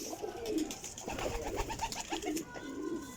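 A pigeon coos softly and repeatedly, close by, with low rolling calls over a faint background hiss.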